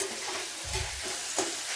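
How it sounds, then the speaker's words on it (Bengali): Pumpkin and greens fry together in a pan, with a steady crackling sizzle and a couple of scraping stirs of the spatula, close and alone. "দুটো একসঙ্গে ভেজে নিচ্ছি।"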